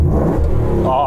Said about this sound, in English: I'm just going to rev this thing up